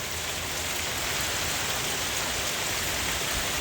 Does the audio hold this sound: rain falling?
yes